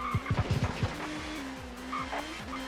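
Touring cars racing at Donington GP in the ToCA Touring Car Championship video game, with engines droning at a distance, a few bursts of tire squeal and skidding at the start, then a steady engine whine rising and falling.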